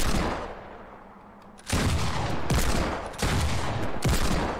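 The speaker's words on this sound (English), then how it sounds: "testing the speeds of Pump Deagle, or just Shotgun Deagle, versus Season 7 Double Pump" Shots from a Gold Pump shotgun and Deagle pistol in Fortnite ring out as heavy, loud blasts: a swelling report, then several sharp shots in quick succession over steady game noise, with no talk.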